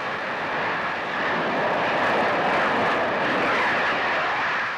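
A 1951 Viking 7 rocket, fuelled with four tons of propellant, roars on liftoff as a steady, loud broadband rush that swells slightly and holds without pause.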